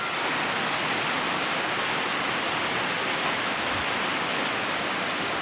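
Heavy rain pours steadily and loudly, a dense unbroken hiss of drops hitting surfaces close by, with no voices over it.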